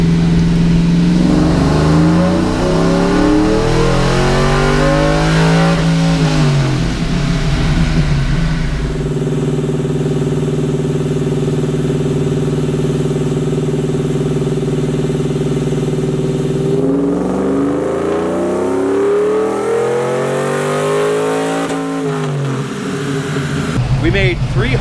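Chevy Tahoe V8 with headers and a blower on a dyno, running on pump gas: loud revving climbs to a sustained high roar, holds, then sweeps up and down again, with people talking over it.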